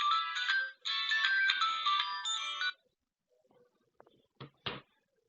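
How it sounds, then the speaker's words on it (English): An incoming call's phone ringtone plays a loud, bright electronic melody in two long bursts with a short gap between, then stops, followed by a few faint clicks and handling knocks. "somebody's trying to phone me"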